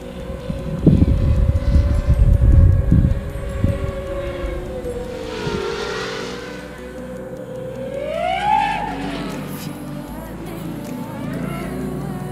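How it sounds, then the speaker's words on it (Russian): A homemade FPV rocket-copter drone flies overhead with a wavering motor whine that swoops up and down, over heavy wind buffeting at the start, with voices talking faintly. "слишком быстро получается летит коптер"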